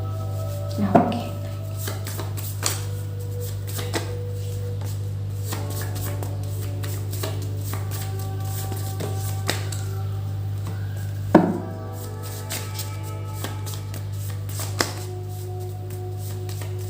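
A deck of cards is shuffled for a card reading, with soft, steady shuffling and two sharper slaps against a constant low hum, no talking.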